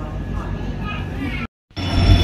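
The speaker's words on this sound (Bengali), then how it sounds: "এই যে আমাদের ট্রেন ঢুকে গেছে।" Train pulling into a railway station on the way to Jaisalmer, a loud continuous low rumble and rolling hum, briefly cut off, then returning strong, with voices talking over it.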